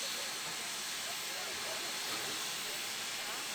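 Steam train engine on the Virginia and Truckee Railroad, standing at Virginia City and releasing a steady, broad hiss of steam that holds unchanged throughout, close and fairly loud.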